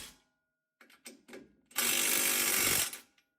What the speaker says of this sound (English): put our tie rod back on, tighten it down, and make sure you tighten both lower strut bolts as well